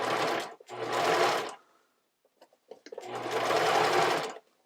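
Sewing machine stitching a padded foam bra seam, two steady bursts of motor-driven stitching separated by a short pause, close and loud with no talking.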